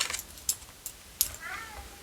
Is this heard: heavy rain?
no